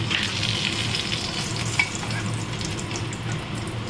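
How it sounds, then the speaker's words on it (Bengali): Whole cardamom, cinnamon, black pepper, bay leaf and a dried red chilli tempering in hot oil give a steady, even sizzle with a faint crackle, close by and alone. "আমি এলাচ, দারচিনি আর গোলমরিচ, তেজপাতা, শুকনো লঙ্কা একটা, এটা আমি ফোড়ন দিলাম"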